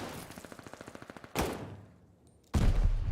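Automatic gunfire in a Call of Duty esports match: a rapid burst of about fifteen evenly spaced shots, followed by two heavier, louder blasts with a brief lull between them.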